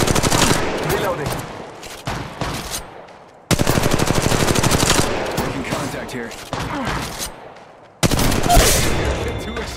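R301 rifle gunfire in the mobile shooter game Apex Legends Mobile: several loud rapid-fire bursts, each a tight string of sharp cracks, separated by brief pauses.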